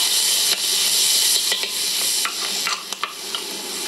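Yellow, red and green peppers fry in a little oil in a pan, a bright continuous sizzle broken by several scraping stirs, close up with no talking.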